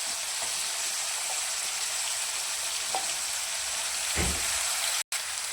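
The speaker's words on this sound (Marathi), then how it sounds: "तर पाहू शकता हे तेलामध्ये चांगले फ्राय झालेले आहे" Potato pieces frying in oil for a vegetable pulao, giving a steady soft sizzle throughout with a few faint stirring scrapes and no talking.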